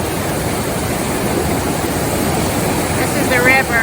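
Waterfall on the Bartram Trail heard up close from a rock beside the river, a loud, continuous broadband rush of falling water with no pauses, briefly joined near the end by a whistle-like tone.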